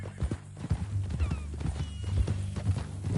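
In a PS4 western game, horse hooves clop in an uneven rhythm with low thumps, close and moderately loud, with a brief whinny-like tone heard once.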